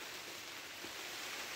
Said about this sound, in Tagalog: Ba't na lumakas na yung ulan?